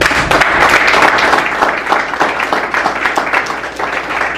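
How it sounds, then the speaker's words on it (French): A seated audience at a summer university session gives loud, full applause that slowly thins toward the end, many hands clapping together with no one speaking. "Il mérite un applaudissement."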